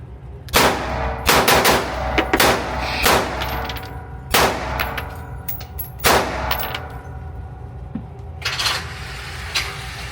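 An AK rifle fires at a shooting range: loud, close single shots and short bursts with sharp cracks and metallic ringing, spaced irregularly over several seconds, no talking.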